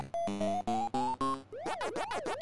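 Pac-Man arcade video game sounds: a quick run of rising electronic beeps, then looping siren-like wavering sweeps. The tones are loud and close, with no talking.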